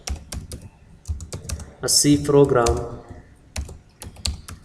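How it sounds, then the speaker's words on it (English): Fast clacking keystrokes on a computer keyboard while a C program is typed, irregular bursts of close clicks with a short stretch of speech in the middle. "I would like to type here the problem definition"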